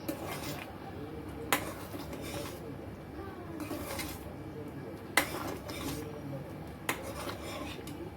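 A thick guava and beetroot mixture is stirred in a pan over low gas, giving a steady scraping rub with a few sharp clinks of the spoon against the pan.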